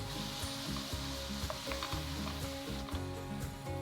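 Crushed tomatoes are stirred into sizzling butter in a pan, a steady close frying hiss with soft scraping strokes of the spoon, no talking.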